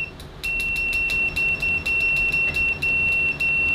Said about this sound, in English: Continuity is next, and we are manually in continuity mode.